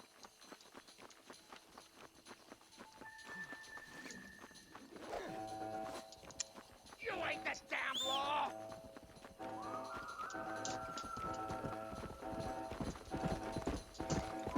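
Horse hooves clip-clop in the Western video game Red Dead Redemption, quiet rhythmic hoofbeats with a neigh and other game sounds mixed in.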